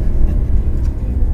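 A Maserati GranTurismo Sport's naturally aspirated V8 with a six-speed ZF torque-converter gearbox rumbles loud and close in a steady, deep drone, with no talking.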